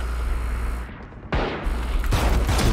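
Rapid bursts of gunfire in Valorant, a sharp volley of shots, then a short lull before more firing sounds off, loud and close.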